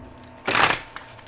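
Tarot cards shuffled in one short riffling burst of papery flutter, fairly close and alone, with faint room tone before and after.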